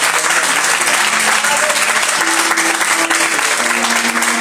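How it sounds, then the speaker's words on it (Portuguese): A congregation at a prayer service claps warmly and steadily throughout, a dense wash of applause from the whole room with no pause. "dá uma linda salva de palmas para ele."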